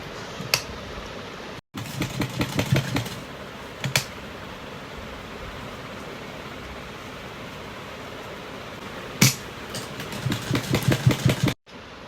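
A sewing machine stitches a summer dress border for a small deity idol, coming in close bursts of rapid mechanical clatter separated by quieter pauses over a low background hum.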